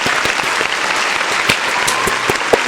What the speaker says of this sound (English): we got to give a clap to him.